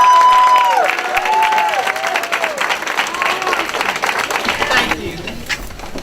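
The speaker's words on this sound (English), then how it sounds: "each of you to please stand on your feet and extend a warm round of applause for my friend, Dr. Merriel Bullock-Neal." A conference audience bursts into warm applause, dense clapping loud at first then settling into a steady patter for several seconds, with a few voices mixed in.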